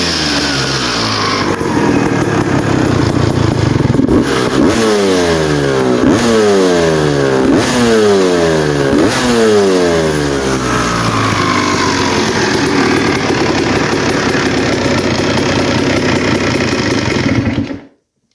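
A 2001 Honda CR250 two-stroke dirtbike engine runs close and loud, blipping through several sharp revs before settling into a steady, raspy idle that keeps going until it cuts off abruptly.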